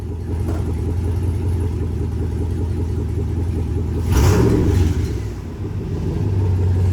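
Restored car driving forward in a workshop, a steady low rumble with a brief surge of revving midway before it eases back to a smooth idle, close and with no voices.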